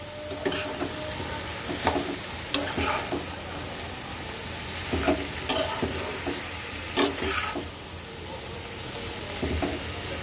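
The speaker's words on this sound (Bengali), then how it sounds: "বাঁধাকপিটা দেওয়ার পরে একটু সুন্দর করে মিক্স করে দেব।" Cabbage stirred and mixed in a frying pan, quiet sizzling under repeated scraping and clattering strokes of a spatula at irregular intervals, close by.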